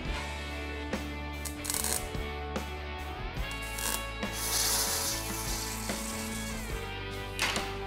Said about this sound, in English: You just crank it through and it makes a perfect even curve.